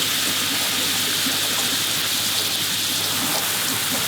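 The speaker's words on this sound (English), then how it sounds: "it hasn't stopped raining for how long?" A rain squall pours down on a boat at sea, a dense, loud, unbroken hiss of drops pattering on the surfaces, steady throughout with no voices.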